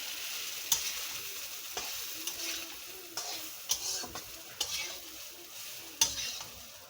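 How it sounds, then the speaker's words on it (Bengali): Jute leaves and jackfruit seeds tossed into a pan of fried garlic, stirred with a spatula that scrapes and clinks sharply every second or so over a steady soft sizzle. "আমি এতে দিয়ে দিলাম আগে থেকে বেজে রাখা পাট পাতা আর কাঁঠালের বিচি।"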